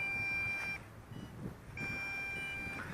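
Low-battery warning from an MJX Bugs 6 drone remote: two long, steady electronic beeps about a second each, separated by a short gap, over hissy outdoor background.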